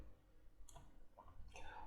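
Computer mouse clicks during a lesson on freezing panes in MS Excel: a few quick, faint clicks spaced apart in a quiet room, with a soft trace of voice.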